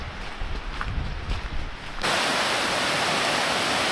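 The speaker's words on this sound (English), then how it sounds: "quite a little river, making a lot of noise." A small river in the Yorkshire Dales rushes noisily over rocks, a dense broadband wash that holds steady and grows louder and brighter partway through, with no voices.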